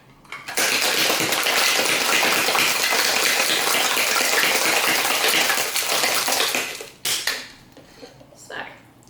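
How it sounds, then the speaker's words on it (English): A cocktail shaker packed with ice and a marmalade mixture is shaken hard for about six seconds, giving a loud, steady, dense rattle and slosh that stops abruptly, with faint handling noises after. "give it a really hard, good shake, because you're going to want to shake up all of that marmalade into your mixture"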